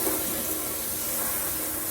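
Diaper sprayer blasting a steady stream of water down into a toilet to rinse a cloth diaper, a loud, continuous hiss of spray with no talking.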